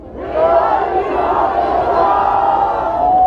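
A festival crowd at Seattle Hempfest yells a chant together for Tommy Chong, a loud, sustained mass of voices that holds steady for about three seconds.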